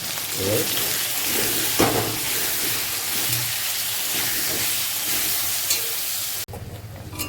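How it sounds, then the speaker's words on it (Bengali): Continuous crackling sizzle of potatoes and yam, with salt and turmeric, frying in oil, close and loud, with faint stirring sounds; it cuts off abruptly near the end. "এটাকে ভেজে নিতে হবে"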